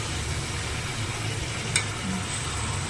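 Chicken meat sizzling in oil in a pan while being stirred, a steady close frying hiss with a faint scrape partway through and no talking.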